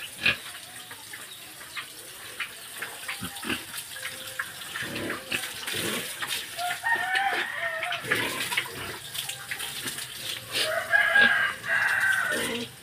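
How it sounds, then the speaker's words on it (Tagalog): Backyard poultry flock of chickens clucking with a rooster crowing, mixed with pig grunts and a trickle of water; quiet at first, the calls grow busier and louder toward the end, with a strong crow near the close. "Guys, oh, mga manok"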